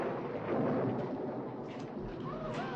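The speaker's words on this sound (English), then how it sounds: "It's just a storm." Thunder from a storm rolls as a low, continuous rumble, fairly loud and steady throughout, with a faint higher hiss on top and no voices.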